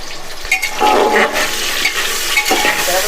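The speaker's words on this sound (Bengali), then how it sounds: "যাতে নাড়াচাড়া করে আলুগুলো ভালো করে ভাজা হয়ে যায়" Potatoes seasoned with salt and turmeric fry in a pan while being stirred, making a brief, close hiss of sizzling with a few scraping strokes and no talk.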